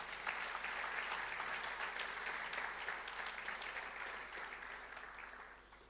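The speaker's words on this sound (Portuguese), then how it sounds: "Você pode aplaudir o Senhor?" A church congregation applauds together, a dense, steady wash of clapping filling the room that holds for several seconds, then thins and fades toward the end.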